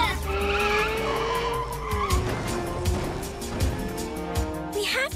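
A cartoon car skids and speeds along, its tires squealing in long sliding whines over a racing engine, with a bumpy low rumble in the second half and a brief voice-like burst near the end.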